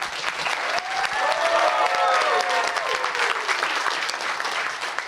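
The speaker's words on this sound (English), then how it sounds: "Please give a very warm welcome and a round of applause for Close to Home." An audience at a new venture challenge finals breaks into warm, sustained applause welcoming a startup team, with faint voices and cheers rising through the clapping.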